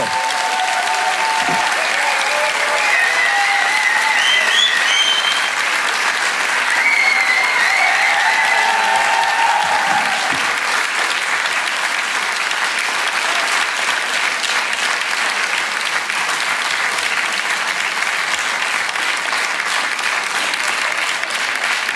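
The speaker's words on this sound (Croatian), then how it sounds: "Veliki aplauz, dolazi Josip Škrinjo!" Audience applause welcoming a stand-up comedian onstage at a comedy special, a loud, continuous roar of clapping with scattered cheers and whistles early on, sustained for a long stretch without talk.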